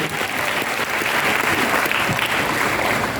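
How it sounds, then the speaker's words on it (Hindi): An audience gives loud, dense, continuous applause for a speaker at a talk, a thick roar of clapping that holds steady for several seconds with little else audible. "जोरदार ताली आप सभी के लिए।"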